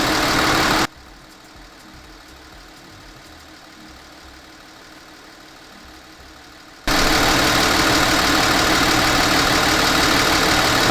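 A 2012 Hyundai Veracruz engine idles steadily after fresh engine and transmission oil, its even mid-low hum continuous and close, louder at the start and end, with no talking.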